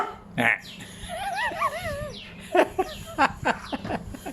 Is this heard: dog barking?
yes